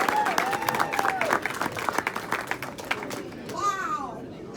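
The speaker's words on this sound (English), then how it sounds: "give a warm round of applause to Congresswoman Frederica Wilson" A crowd gives a round of applause for a congresswoman at an airport grand opening, clapping mixed with chatter and voices, fading toward the end as a whistle-like tone rises.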